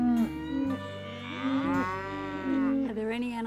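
Cattle moo several times in long, drawn-out low calls, close by, one overlapping another with a brief quieter gap in between.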